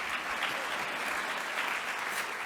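Dense, even applause from a large conference audience at a plenary session on ending homelessness, a steady wash of clapping heard alone from start to end.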